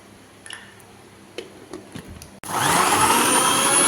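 A blender starts abruptly and roars loudly and steadily, mixing tender coconut for a milkshake, preceded by a few soft clicks and handling knocks.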